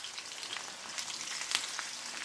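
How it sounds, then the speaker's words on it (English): Chopped onions and celery sauté in a pan for hamburger soup, giving a soft, even crackling sizzle up close that runs steadily through the whole moment. "we're going to saute these onions and celeries"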